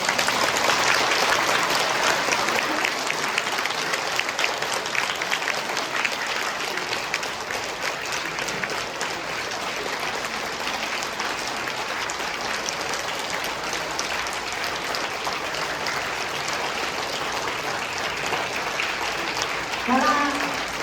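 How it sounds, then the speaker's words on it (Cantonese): A concert audience applauds continuously, a dense steady wash of clapping that holds for the whole stretch, with a voice briefly audible near the end. "所以請大家俾佢哋熱烈嘅掌聲"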